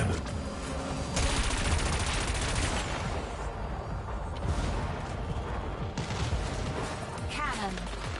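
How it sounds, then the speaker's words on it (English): Rapid cannon fire from a craft in the racing video game Wipeout, dense bursts of sharp repeated shots layered over game music and engine noise, moderately loud and continuous with a brief lull midway. "Cannon."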